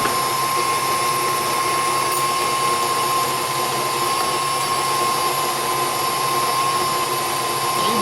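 A stand mixer runs steadily while creaming sugar for a pineapple upside-down cake, giving a loud, even motor whir with a constant tonal hum and no pauses or speech.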